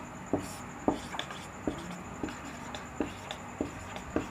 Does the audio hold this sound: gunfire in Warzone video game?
no